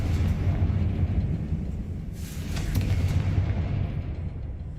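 A fiery Confringo blast spell in Hogwarts Legacy, a loud rumbling explosion with sustained crackle and boom that swells again midway, heard alone without voices.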